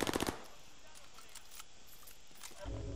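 A short rapid burst of gunfire in Call of Duty: Warzone opens the clip, followed by quieter background noise and a few faint clicks, with a low thump at the end.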